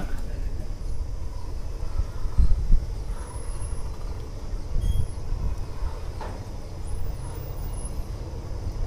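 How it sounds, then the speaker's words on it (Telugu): A long goods train rumbles past nearby at Penukonda railway station, a steady low roar with rattling wagons and occasional clanks, continuing throughout. "గూడ్స్ చూడండి, గూడ్స్ ట్రైన్ వెళ్ళిపోతుంది."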